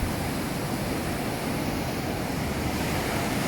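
Strong sea waves at a resort shore, a loud, continuous broadband roar of surf with wind rushing over the microphone, no distinct breaks between surges.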